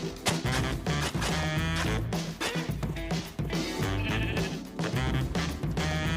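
Sheep bleat in the mobile edition of Minecraft Java Edition, repeated short calls heard over loud, busy background music.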